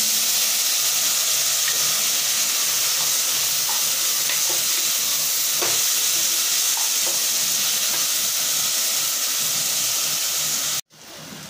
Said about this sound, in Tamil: இப்போ வெங்காயம் தக்காளி வதங்கிருச்சு.